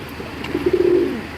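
A Giribaz pigeon gives a single soft, throaty coo that swells and fades over about half a second, close and clear against quiet background hiss.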